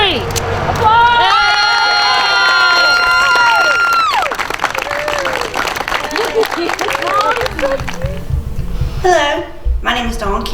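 Crowd at a ribbon cutting bursts into loud, sustained applause and cheering with whoops and shouts, fading after several seconds as voices talk over the end.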